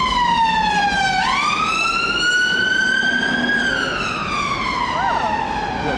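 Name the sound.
ambulance siren passing in traffic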